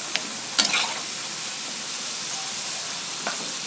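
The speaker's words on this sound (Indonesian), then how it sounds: "Menit kemudian kita buka. Lalu kita aduk." Chayote squash stir-fry in a pan gets stirred, giving a few brief scraping clatters over a steady soft sizzle and hiss of cooking, close and moderately loud, with no talking.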